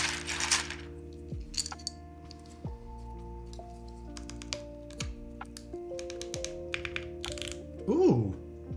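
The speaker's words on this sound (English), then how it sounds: "So I have to put keycaps on, so I have to sort through them all now." Plastic keyboard keycaps for a Fuji65 V2 keyboard build being sorted by hand, with scattered clicks, clacks and light rattles as pieces are picked up and dropped, close and fairly quiet, with faint background music.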